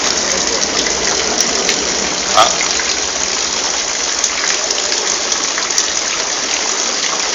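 Water rushing and gushing steadily as a vehicle fords a river during rain, a loud continuous broadband wash filling the whole stretch with a faint engine underneath.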